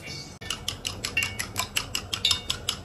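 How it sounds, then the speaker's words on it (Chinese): Eggs being beaten in a bowl with a utensil for a stir-fry with onion and wood ear mushroom, a fast regular series of close clicking taps against the bowl after one sharp knock. "把鸡蛋 打散"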